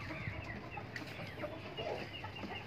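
Hens feed while a rooster clucks on a rooftop farm in Karachi, soft overlapping clucks and murmuring fowl sounds at low volume against a light background hum.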